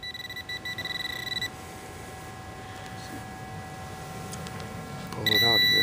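A Minelab SE Pro metal detector gives a signal on a buried target: steady, stuttering high beeps that cut off, then a low background hum, ending in a louder burst of tones outdoors.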